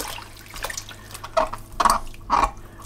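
Rinsed vegetables drip and drain water for a salad, with several distinct splashy trickles and drops falling in quick succession, close and fairly loud.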